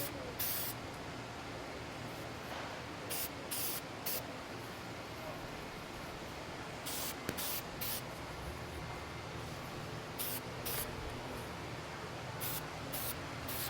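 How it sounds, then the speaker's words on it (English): Short bursts of spray glue hiss from an aerosol can over a trash can while prototyping a foam monster suit head, repeated in quick pairs and singles over a low background hiss. "you're spraying ropes of this glue out over the floor or over a workmate"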